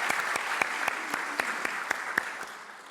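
A small workshop audience applauds with a light patter of clapping over which one pair of hands strikes out in sharp, regular, close claps, about four per second, before it fades.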